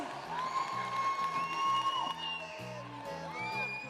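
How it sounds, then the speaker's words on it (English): Crowd cheering and whooping for both teams, New Zealand and Gibraltar, at a netball match at the end, with a long rising whoop over steady crowd noise and a thumping music beat underneath. "Give that last big cheer for both teams as they made their way out."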